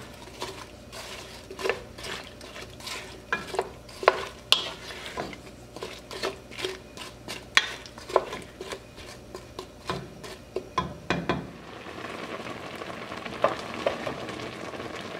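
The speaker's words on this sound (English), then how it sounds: "You want to simmer for about 25 to 30 minutes, stirring occasionally." Homemade apple butter with tender apples simmering in a pot, stirred with repeated utensil scrapes and clinks against the pot over a low bubbling sizzle, then the stirring stops and a steady soft simmer remains.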